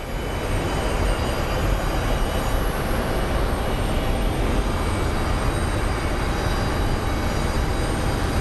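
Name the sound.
passenger airliner arriving at Phoenix Sky Harbor Airport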